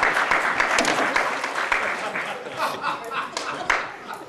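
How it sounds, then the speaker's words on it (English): An audience at a village public hearing on a Main Street project breaks into a dense round of applause, with voices talking underneath. "Applause."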